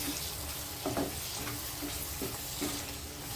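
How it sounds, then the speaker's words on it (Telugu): Prawns cooking in a sesame masala paste give a soft, continuous sizzle with a few faint stirring scrapes at intervals, fairly quiet and without talk. "ఇప్పుడు దీన్ని కూడా రొయ్యలు వేసి మగ్గబెట్టేద్దాం."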